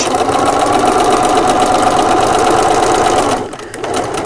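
A sewing machine stitching fabric for a drawstring bag runs in a loud, steady whirring rattle close by, then slows and shifts briefly as it reverses for a back stitch.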